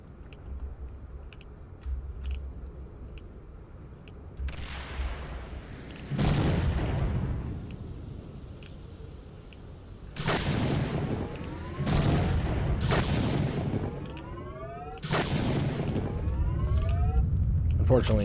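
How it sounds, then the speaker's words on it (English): Gauss rifle shots in the video game S.T.A.L.K.E.R., several sharp booming blasts spaced a few seconds apart, each with a ringing, descending tail over a low game ambience. "Unfortunately, it took 3 shots to get that guy"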